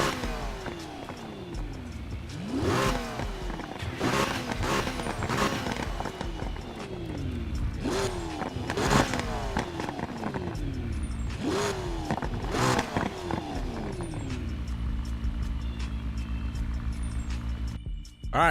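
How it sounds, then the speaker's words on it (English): In the racing game Need for Speed Heat, an exotic car's engine revs in repeated sharp bursts, each climbing and falling in pitch, loud and close, then settles into a steady idle near the end. "I'm gonna turn on the car so you guys can see and hear exactly how it sounds"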